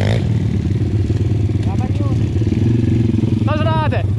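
Pitgang 140XD pit bike engine droning steadily through a jump on a light enduro trail ride, continuous and close, with a voice talking over it.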